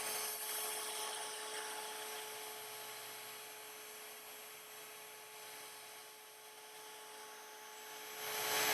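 A rotary polisher runs steadily across car paint, producing a continuous, even, faint whirring hiss with a slight swell toward the end and no talking.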